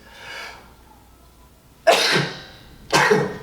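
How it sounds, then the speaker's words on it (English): A soft breathy intake, then two loud, explosive allergy sneezes about a second apart, close up with no talking, during an at-home workout. "here comes a sneeze"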